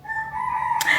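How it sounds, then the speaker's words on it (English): A rooster in Ghana crows once, close and loud, in a short, strained call that rises sharply at the end. "Thank you, Rooster."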